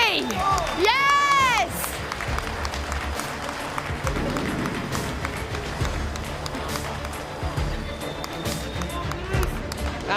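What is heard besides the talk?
crowd applause and cheering for winners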